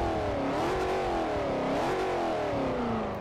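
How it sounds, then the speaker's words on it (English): American V8 car in Forza Motorsport 4 revving steadily, a loud, continuous engine drone that rises and falls in pitch with throttle blips, heard alone without talk. "I'll just rev up the car so you can hear it a little bit."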